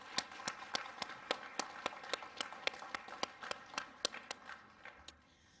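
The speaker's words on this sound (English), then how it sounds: "let us give them a round of applause" Scattered, sparse hand claps from a modest audience honoring veterans at a Korea-era and Vietnam-era veterans awards ceremony, a few dozen distinct claps in an uneven rhythm that thin out toward the end, fairly faint in a room.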